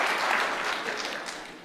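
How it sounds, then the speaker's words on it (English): A brief burst of congregation applause in a church during a Mass homily, dense clapping from many people that starts full and fades slightly over about a second and a half. "give yourselves a round of applause"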